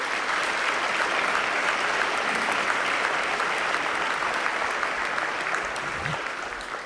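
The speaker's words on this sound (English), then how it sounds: "I think that deserves a round of applause for him." Sustained, dense applause from a large audience in a high school basketball arena, steady and loud throughout before easing slightly near the end.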